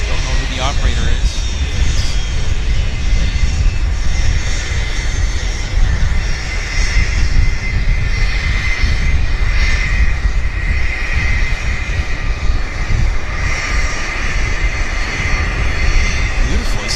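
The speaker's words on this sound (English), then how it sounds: "Very interesting airplane." Small utility airplane, a Kodiak, at Vancouver Airport, giving a steady, loud engine drone and broadband roar that holds throughout, with people talking over it.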